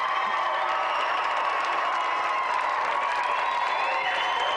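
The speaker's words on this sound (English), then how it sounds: "let's have a final round of applause for our gallant challenger" A studio audience on a game show applauds and cheers for a departing challenger, a steady, even wash of clapping throughout.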